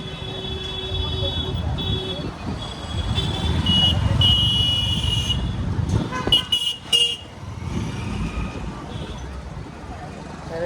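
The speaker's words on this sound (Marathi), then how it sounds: "आणि खूप ट्रॅफिक पण आहे." Busy road traffic in the market town of Ghoti, with engines rumbling close by and several car horns tooting in short bursts. Voices can be heard faintly in the background.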